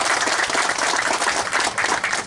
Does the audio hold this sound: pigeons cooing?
no